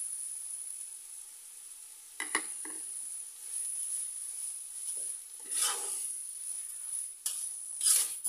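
Bottle gourd frying with sugar in ghee in a pan gives a soft, steady sizzle, broken by a few brief scrapes and stirs of a utensil against the pan.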